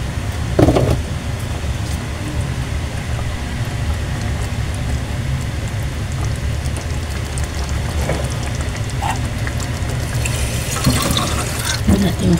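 Water poured into a pan of sautéed sardines, a steady hissing, bubbling wash that runs continuously at moderate loudness with a few brief louder splashes.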